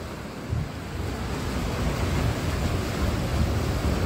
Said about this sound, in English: Because these waves are raging in quick.